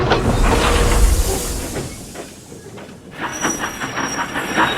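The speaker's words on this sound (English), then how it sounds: "Percy, shunting nearby, was about to speak up when Henry arrived." A steam engine rolls in, giving a loud, steady hiss with rhythmic clicking of wheels over rail joints. The rumble eases midway, then the clatter resumes crisply.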